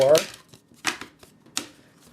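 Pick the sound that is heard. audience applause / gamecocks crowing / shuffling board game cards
shuffling board game cards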